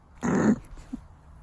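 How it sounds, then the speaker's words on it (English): Prairie dogs in Wyoming give one short, rough bark-like call of about a third of a second, followed by a fainter chirp and quiet outdoor background. "Prairie dogs."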